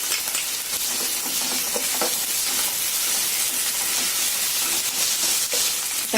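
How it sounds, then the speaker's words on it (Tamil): Onions sauté with ginger garlic paste in a pan for prawn gravy, giving off a close, continuous hissing sizzle with faint stirring scrapes throughout. "வெங்காயம் நல்லா கொஞ்சம் தவக்க வதக்கணும்."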